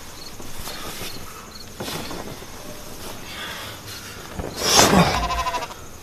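Sheep bleating over a steady, noisy background, with a few faint bleats early on and one louder, wavering bleat near the end.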